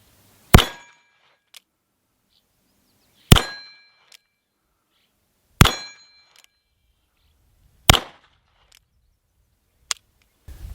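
A Cimarron 1862 Pocket Navy conversion revolver chambered in .380 ACP fires four sharp, ringing shots at slow, steady intervals. Each crack leaves a short metallic ring and decay, and faint clicks come between the shots.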